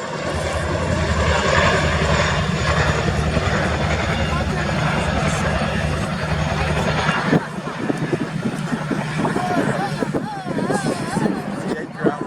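A Chinook helicopter at an air display carries an underslung quad bike, its heavy rotor and engine roar loud and continuous before cutting to lighter noise with crowd voices and a distant engine hum.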